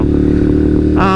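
Ducati Monster or Triumph Street Triple motorcycle engine idling close by, a loud steady low throb with a brief rise in pitch near the end.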